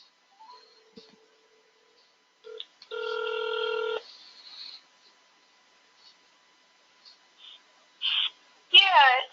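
A telephone rings once during an online tutoring call, a steady electronic tone lasting about a second amid quiet, followed by scattered clicks and a brief voice at the end.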